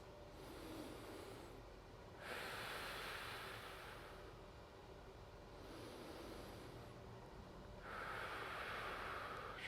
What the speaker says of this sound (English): A couple deep breaths here.